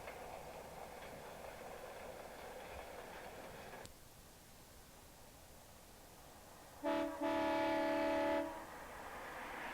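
Train travelling toward Van Buren past plowed fields, heard from a hillside: faint distant rumble of rolling cars, then a sustained horn blast rings out for a couple of seconds before the low rumble resumes.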